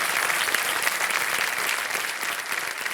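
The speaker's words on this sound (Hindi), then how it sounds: "तालियां बज जाए इनके लिए।" A studio audience on the Kaun Banega Crorepati game show bursts into loud, sustained applause for the contestants, a thick continuous wash of clapping.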